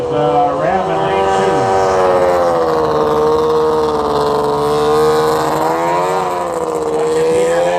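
Late model trail stock 600cc snowmobiles race with a loud, sustained high-revving engine whine that rises and falls in pitch, close to the listener and without a break.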